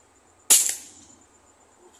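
A single sharp crack rings out from a homemade fish gun, loud and close, with a bright burst that decays over about half a second into quiet outdoor air.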